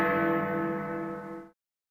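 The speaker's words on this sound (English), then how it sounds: "and Big Ben." A Big Ben style clock bell chime played as a premium clock sound on a smart speaker: one sustained, resonant bell tone with rich harmonics, close and clear, decaying steadily for about a second and a half before cutting off.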